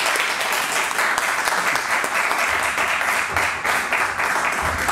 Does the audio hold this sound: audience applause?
yes